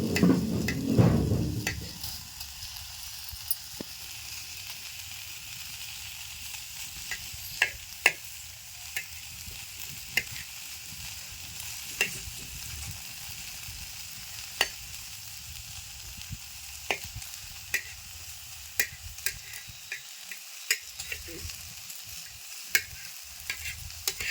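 Large okra roasting in a pan gives a steady soft sizzle, with scattered sharp clicks and scrapes of stirring throughout, no voices.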